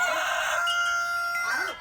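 A rooster crows nearby in one sustained, loud, strained call that slides in pitch and fades at the end, with no talking.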